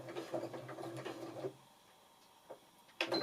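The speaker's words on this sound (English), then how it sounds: "if I press the reverse button, it will lock the stitch for me" A sewing machine running a short reverse stitch to lock a quilting seam, a faint rapid mechanical whir for about a second and a half, followed by near silence and a couple of soft clicks.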